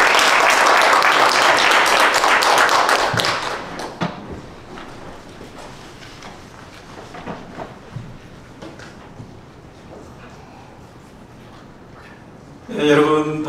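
An audience at a church evangelism training event bursts into loud clapping for a few seconds that tapers into scattered claps and room noise, with a brief rustle near the end.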